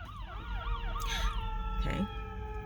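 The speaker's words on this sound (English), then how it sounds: "ambulance" A wailing siren sweeps up and down at a distance, steady beneath outdoor background rumble, with a couple of brief louder bursts over it.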